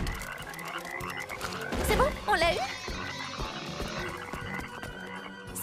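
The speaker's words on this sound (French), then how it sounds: "Grenouille!" A cartoon frog croaks a few times in quick, warbling bursts near the middle, set among busy background music and effects, with people talking before and after.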